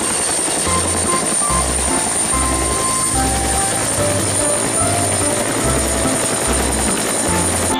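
A toy helicopter whirs steadily up close, its rotor droning with a rhythmic pulsing hum over about eight seconds, accompanied by faint background music.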